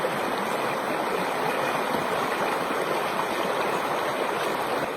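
A river stream flows steadily, a constant broadband rush of water at a local river where clothes are washed, close and even throughout with no talk.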